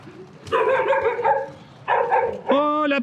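A dog gives a few drawn-out, whiny barks and a higher yelp, close by, in separate bursts, reacting to someone on roller skates.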